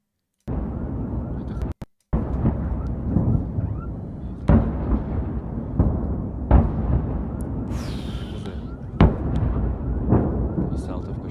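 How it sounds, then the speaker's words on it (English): Heavy artillery shelling in Kharkov, with a series of deep booming blasts roughly every two seconds over a constant low rumble, loud and reverberant. "Now in Kharkov, there is the most powerful shelling of all time."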